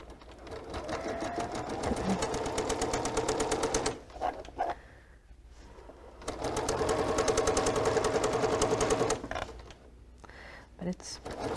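A sewing machine stitching quilt seams runs in two long bursts with a pause between, close and steady, with talking around the runs.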